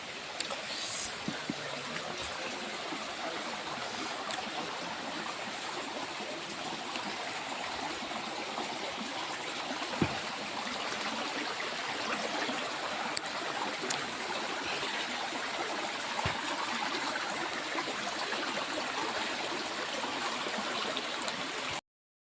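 A forest stream near Chakratirtha waterfall gives a continuous, even rush of flowing water, moderately close, with no one talking over it.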